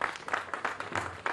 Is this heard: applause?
yes